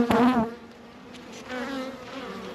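Welsh black bees buzz close around a beekeeper's veil at a hive site, a loud near drone that swells at first, eases, then rises again in steady wavering hum.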